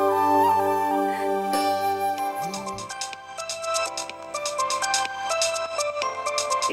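A phone ringtone plays a melodic electronic tune, starting with sustained tones and then turning into quicker bright repeated notes, loud and close, with no speech.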